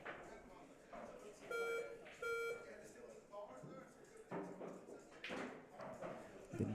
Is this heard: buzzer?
yes